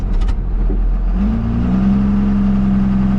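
A boosted car engine, tuned toward 800 horsepower, idles roughly then climbs into a rising, loud rev as the car accelerates on a test drive, with a steady droning tone holding afterward.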